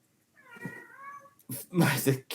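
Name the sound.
cat meowing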